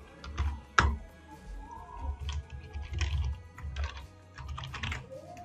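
Typing on a computer keyboard during a Debian Linux setup, with irregular quiet key clicks and a sharper keystroke near the start, close and alone.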